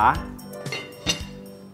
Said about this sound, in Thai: พอเดือดแล้วนะครับ ผมก็จะปิดฝา